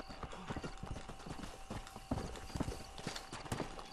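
Horse hooves clip-clop steadily in Red Dead Redemption, a brisk, even rhythm of hoofbeats at moderate volume with a few sharper, louder strikes over soft background ambience.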